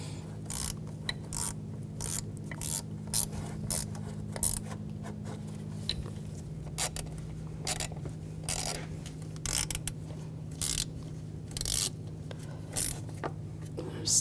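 A ratchet tightening intake manifold bolts on a 2011-2018 Volkswagen Jetta 2.0L TDI, with quick bursts of metallic clicking repeated in short runs against a low steady hum.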